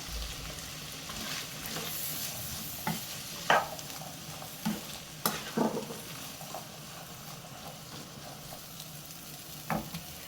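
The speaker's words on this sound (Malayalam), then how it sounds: "ഇനി നമുക്കിതെല്ലാം കൂടെ ഇളക്കി ഒന്ന് മിക്സ് ചെയ്തെടുക്കാം." Boiled chickpeas being stirred with chaat masala and other spice powders, a steady sizzling hiss under a series of spoon scrapes and knocks against the bowl, close and moderately loud.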